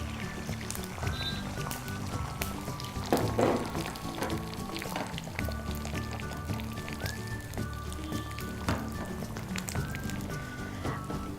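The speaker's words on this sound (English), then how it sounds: "And gently pour in the eggs." Beaten eggs go into about three tablespoons of hot oil in a pan, crackling and sizzling at close range with irregular spits and pops throughout.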